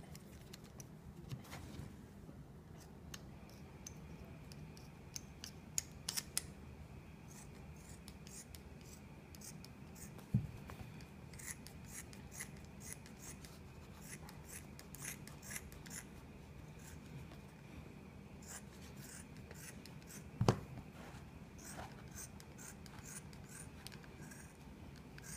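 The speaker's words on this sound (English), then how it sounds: "So now you have the rubber cut out" Scissors cut through a sheet of rubber to shape custom racing wheelchair gloves, giving faint, scattered snipping and rasping over a steady low background hum, with no talking.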